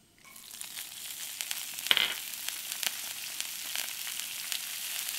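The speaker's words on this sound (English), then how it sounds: "First I will add the cumin seed. As seeds crack, add the green peas." Cumin seeds crackle and sizzle in hot oil as green peas go in for Punjabi samosa filling, a steady close frying hiss with scattered sharp pops and one louder splash near the start, no voices.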